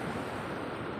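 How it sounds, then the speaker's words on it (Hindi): Fast-flowing floodwater rushes past in a loud, continuous roar, a dense churning wash that holds steady throughout, with wind noise buffeting the microphone. "पानी काफ़ी तेज चल रहा है"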